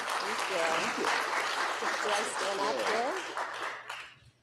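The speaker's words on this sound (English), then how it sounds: "Round of applause." Applause from an audience at a performance showcase, moderate clapping under a voice speaking over it, tapering off near the end.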